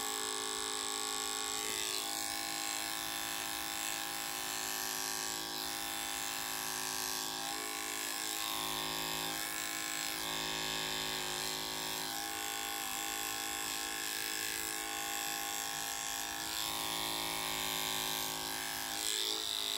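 Electric hair clippers with a 4 millimetre guard buzz steadily and continuously while cutting a short buzz cut at home, a close, even motor drone with no speech.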